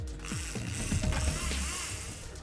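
A fishing reel ratchet clicks rapidly and mechanically, close and continuous, while a tuna is being reeled in.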